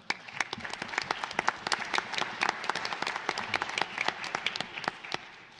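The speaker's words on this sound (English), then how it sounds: "They applauded for you, not for me." A debate audience gives a burst of sharp, rapid applause for student participants, loud and sustained, then thins out toward the end.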